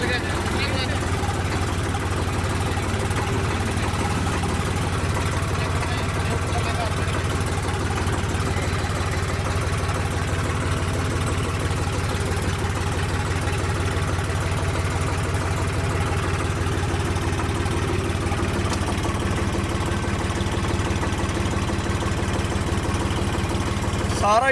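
A Swaraj 855 FE tractor engine idles steadily up close, a loud, unbroken low diesel rumble with a constant chugging texture and no talk.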